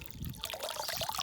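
Hot water runs out of a 16 mm garden hose pipe, a short close trickle and splash of liquid with no voices.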